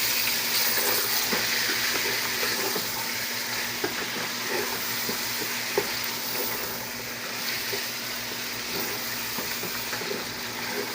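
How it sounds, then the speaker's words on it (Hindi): Chicken fries in a pan for a curry, giving a steady, dense hiss with a low hum beneath it and occasional soft stirring sounds. "चिकन को आप फ्राई करेंगे 5-7 मिनट के लिए अच्छे से।"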